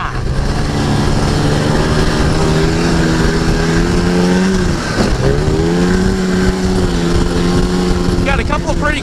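An Arctic Cat Jag 440 AFS Special snowmobile engine runs steadily at high revs, holding a loud, droning pitch before a brief dip and rise, then a few sharp revs near the end.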